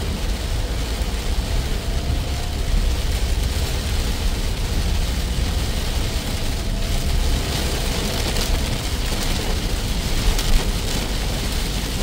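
Heavy monsoon rain pours down on a car driving from Gimpo toward Gyeyang in Incheon. The dense, loud roar of the downpour is steady and unbroken throughout, with no voices.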